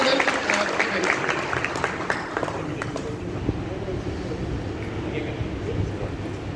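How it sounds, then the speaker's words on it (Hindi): A crowd claps steadily in a sustained round of applause, dense and loud, fading slightly toward the end. "तो एक बार सर के लिए जोरदार तालियां।"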